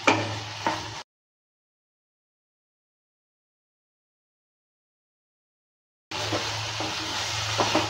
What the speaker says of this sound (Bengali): ঢাকনাটা তুলে নেওয়ার পর নেড়ে চেড়ে নিচ্ছে।